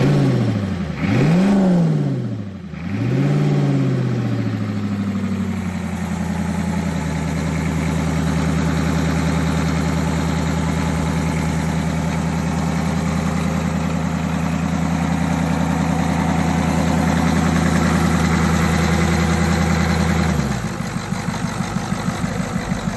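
A 6.9 IDI diesel engine revs and surges unevenly a couple of times, then settles into a rough, steady idle with a slight stumble before the pitch shifts and the idle becomes choppier near the end.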